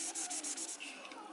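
An eraser scrubs dry-erase marker off a laminated page in quick, close back-and-forth rubbing strokes, soft and papery, then a short squeak as it slows.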